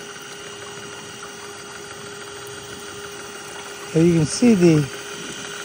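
A 12-volt motor in a rubber jacket spins a stainless steel spindle with paddles in a gold trap, making a steady faint hum with a thin constant whine over running water, joined briefly by someone talking.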